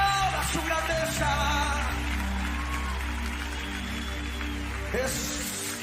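A church congregation at a Sunday worship service claps together in a sustained round of applause over a steady, low musical drone, and scattered voices rise briefly near the end.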